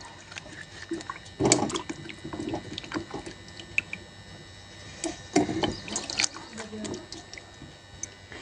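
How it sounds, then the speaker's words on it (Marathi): Running water splashing over a hollowed pumpkin as its inside is washed in a kitchen, close wet splashes and drips in uneven bursts, with a voice speaking now and then. "आतली बाजू छान अशी धुवून घेऊया"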